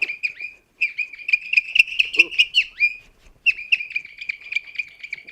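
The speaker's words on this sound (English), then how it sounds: "twirl it in the air, and then you get a lovely, quite chaotic bird sound." A twirled Japanese bird whistle warbles in quick, chattering chirps, loud and close, with a brief pause before the twittering resumes.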